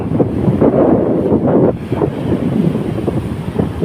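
Rough monsoon sea surf churns steadily under strong wind buffeting the microphone, a continuous loud roar with surging swells.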